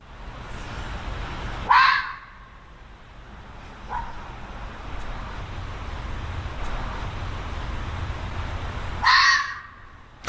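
Two sharp, high screams from a fox in the UK ring out at night, one early and one near the end, each brief and harsh over steady low background hiss.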